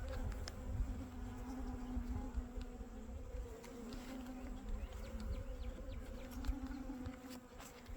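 Honey bees hum in a steady, close, droning buzz around an open hive while a feeder is fitted, with individual bees whizzing past now and then; no one talks.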